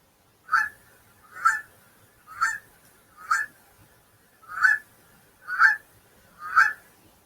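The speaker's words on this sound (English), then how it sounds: "Can you honk like a Canadian goose?" A Canada goose honks seven times in a steady, evenly spaced series, each call clear and fairly close against a quiet background.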